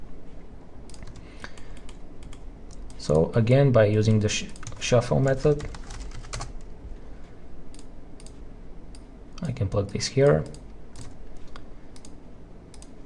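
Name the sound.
typing on a computer keyboard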